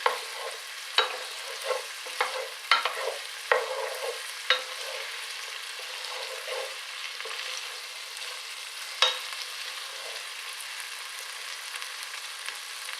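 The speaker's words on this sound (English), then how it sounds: "Fried onions smell delicious" Onions fry in a pan with a soft, steady sizzle, and a run of light spatula taps and scrapes comes early, then one more later, close but quiet.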